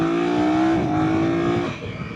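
A 2024 BMW F 900 GS motorcycle engine pulls hard under acceleration, a loud, steady rising drone close up that eases off near the end, with no talking.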